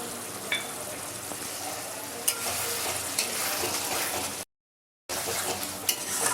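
Minced garlic fries with masala in a pan, a close, moderate sizzle with occasional clinks and stirring scrapes that cuts off abruptly for a moment before resuming.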